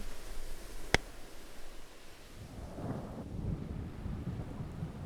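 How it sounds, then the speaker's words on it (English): A low, distant rumble of thunder rolls in over steady rain and wind, preceded by a single sharp click. "Another roll of thunder"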